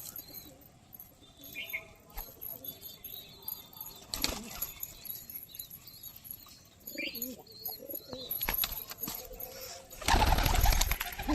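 Several High Flyer pigeons coo softly and flap their wings in bursts, with a loud rush of wingbeats near the end and occasional faint chirps in the background.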